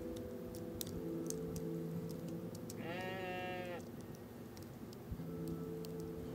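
A sheep in the video game OneShot lets out one drawn-out bleat over steady looping game music, with no talking.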